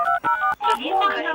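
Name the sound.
telephone dialing tones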